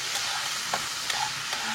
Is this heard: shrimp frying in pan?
yes